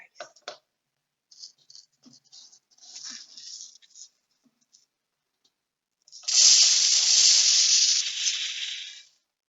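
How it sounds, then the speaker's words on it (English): Dry rice poured into a container, a steady hissing rush of grains after scattered faint rattles and brief quiet sounds. "I'm going to pop in some more rice."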